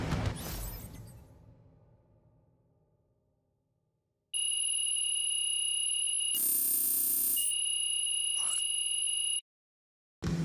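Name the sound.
final buzzer in video game NBA 2K26 basketball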